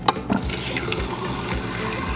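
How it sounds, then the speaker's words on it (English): Water runs from a dispenser into a water bottle, a steady close splashing fill after a short clunk at the start, continuing without break. "we are done filling up my water bottle"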